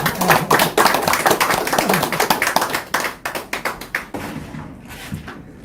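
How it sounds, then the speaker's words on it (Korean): An audience at a public lecture applauds in a dense burst of hand claps that holds steady, then thins into scattered claps and fades over the last second or so. "그래서 이제 박수 좀 올립시다."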